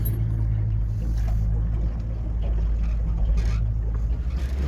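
A boat's outboard engine running, a loud steady low drone close to the microphone that continues without a break.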